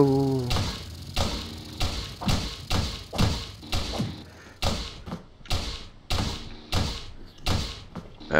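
Nail gun firing repeatedly in the video game Teleglitch, a steady series of about a dozen punchy thumps roughly every half second, loud and close, with a brief voice at the start.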